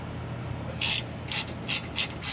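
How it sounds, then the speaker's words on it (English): A ratchet with a 15mm socket works the brake caliper bracket bolts on a Mustang GT, giving four or five short metallic clicking bursts in a loose rhythm, close and fairly quiet. "We're going to take a 15mm and we're going to take off the bracket because we got to get the whole caliper assembly out of the way"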